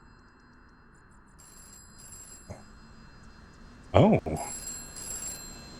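A telephone rings in a phone booth in a video game, with repeated electronic ring tones at moderate volume, a brief interjection from a voice, and a louder burst partway through.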